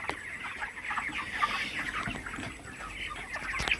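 Country hens and a rooster cluck steadily while being weighed, a busy overlapping chatter of clucks that is fairly close but not loud, with no talking.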